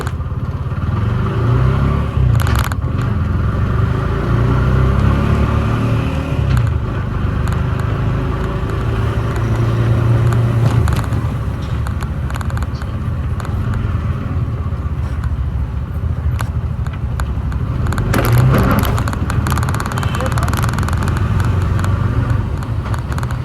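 Auto rickshaw engine in Chennai traffic, rattling and revving close by as the vehicle pulls away and keeps moving, with engine surges and clattering over steady road noise.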